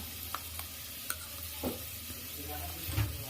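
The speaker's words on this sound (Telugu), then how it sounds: "ఆనియన్స్ కొంచెం గోల్డెన్ ఎల్లో వచ్చేంత వరకు వేయించుకోవాలి" Onions fry in hot oil in a pan, sizzling steadily. A spoon scrapes and stirs them with a few soft knocks.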